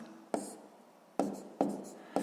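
A pen writing a maths answer on paper, soft scratching strokes with a few sharper taps as marks are made, quiet and close, with no talking.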